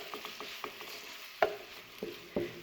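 Onion pieces get stirred in a pan with oil, making a soft background sizzle broken by several distinct scrapes and clacks of a utensil, without talk.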